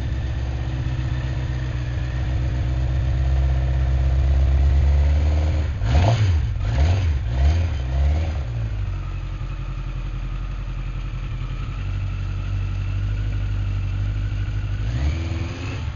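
A Yamaha FJ1200 motorcycle engine idles steadily and close by, with a brief rise in revs around the middle. Otherwise the low rumble stays even throughout.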